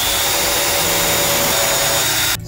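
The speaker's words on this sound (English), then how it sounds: "we're gonna drill pilot holes into that and then screw that to the wall" Power drill boring pilot holes into a wall panel during an acoustic panel installation, a steady loud whirring drone with no talk that cuts off sharply at the end.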